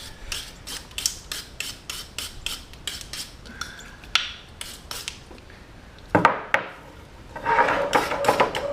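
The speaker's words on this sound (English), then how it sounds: "And I rub them down real good, try to get the rust off of them" Rusty cable ends from a tree stand being rubbed down by hand, a fast run of rhythmic rasping strokes with a few clunks and a rougher, louder scrubbing burst near the end.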